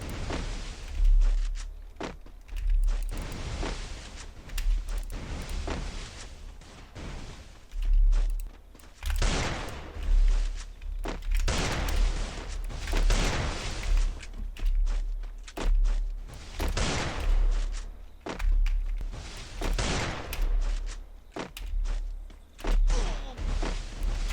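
Gunfire in a shooting video game: bursts of rapid shots and heavy thumps recurring every second or two, loud and close, with brief quieter gaps between volleys.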